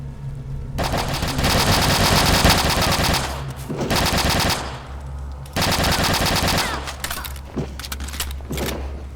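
Sustained automatic gunfire from a weapon in the shooter game RealRTCW, loud rapid bursts in long stretches separated by brief pauses, with a low engine-like hum underneath.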